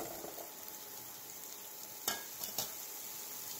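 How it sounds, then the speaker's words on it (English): Cauliflower sautés in melted butter over a medium flame, a faint steady sizzle with two brief sharp scrapes of stirring, close but quiet, with no talking. "mix the cauliflower into the butter"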